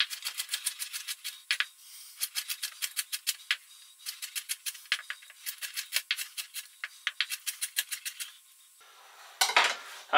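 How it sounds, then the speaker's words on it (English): Knife chopping pieces of bell pepper on a cutting board, a steady run of sharp, close taps in quick bursts with short pauses, ending in a brief scrape. "And then I'll just chop these bits up."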